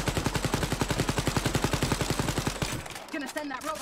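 Rapid automatic gunfire rattles in an even, loud burst for over two seconds in Wolfenstein Youngblood, then cuts off into softer clatter and a voice.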